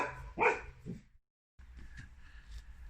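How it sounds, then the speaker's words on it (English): A dog gives one sharp bark near a door, followed by a softer yip, then a brief silence and low room noise as it goes to greet someone arriving. "you'll recognise the sound of the door going and the dog going to greet whoever it was"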